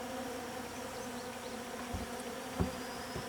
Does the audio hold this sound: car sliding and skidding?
no